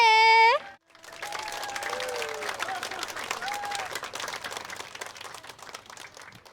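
A school audience at SMP 4 Fatuleu in Kupang breaks into sustained applause after a brief sung or musical tone, many hands clapping at moderate distance for several seconds.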